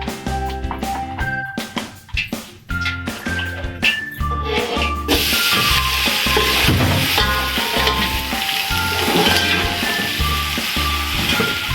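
Chopped onions frying in hot oil for chicken pulao give a steady loud sizzle that swells after a few seconds of stirring and scraping, with no talk over it.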